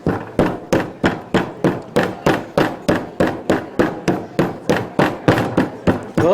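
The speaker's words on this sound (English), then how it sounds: "we need to pound it out to make it flatter and more even" A meat mallet pounds a butterflied steak flat on a board, about twenty firm, close thuds in a steady fast rhythm with no voices.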